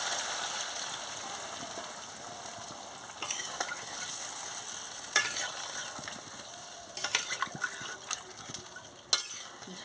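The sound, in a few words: water poured into frying goat meat curry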